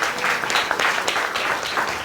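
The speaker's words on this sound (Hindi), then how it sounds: "तालियां बजा के प्रभु का धन्यवाद।" A church congregation claps in thanks during a Hindi sermon, a steady, dense patter of many hands filling the whole brief stretch at even loudness.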